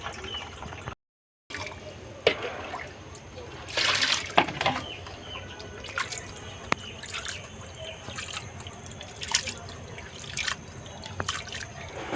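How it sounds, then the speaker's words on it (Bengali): Small cut fish being rinsed in water, with trickling and dripping splashes coming in short bursts close by over steady background noise. "মাছ কাটা হয়ে গিয়েছে এখন আমি পরিষ্কার করে ধুয়ে নেব"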